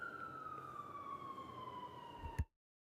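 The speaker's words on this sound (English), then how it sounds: "there is a siren in the background" A distant emergency siren wails steadily in a single drawn-out tone behind a quiet room, then cuts off abruptly after a short thump.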